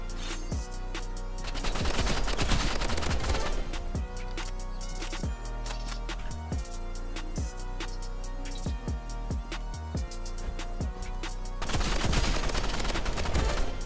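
A paintball gun fires in Roblox Rivals, with rapid, sharp repeated shots in quick volleys that run almost nonstop over game music, loud and close.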